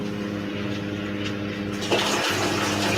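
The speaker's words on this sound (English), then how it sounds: "That was a loud pump when he first turned on." A water pump hums steadily, then kicks in louder as water starts rushing through, a close, continuous churning flow that swells toward the end.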